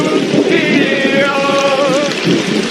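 Heavy rain pours steadily through a movie opening scene, loud and dense, with a sustained wavering tone rising over it midway and a faint rumble underneath.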